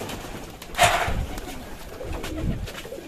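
Pigeons coo at a rooftop loft where a stray pigeon has come down with the flock, low murmuring coos under a faint chirp and rustle, with outdoor background noise.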